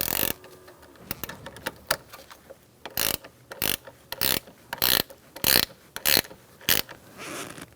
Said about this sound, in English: Put your negative battery terminal on, push down, and tighten it up.